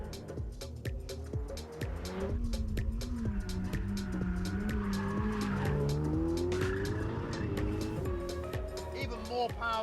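A mid-engine, 700-horsepower Ferrari 488 Pista driven hard on a track, its engine note rising and falling steadily through gear changes with hints of tire squeal, while a voice talks over the continuous roar.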